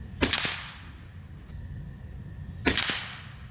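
Two sharp, loud cracks from an FX Leopard air rifle, a bullpup PCW, about two and a half seconds apart, each with a short ringing tail and nothing but faint ambience between.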